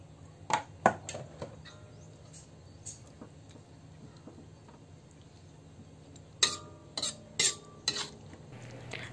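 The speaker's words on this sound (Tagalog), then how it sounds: "Haluin natin yan guys ng mabuti." A spoon stirs coconut milk in a cooking pot for laing, giving a few scattered scraping clinks against the metal. Quiet bubbling sits in the pauses, then a quick cluster of louder knocks near the end.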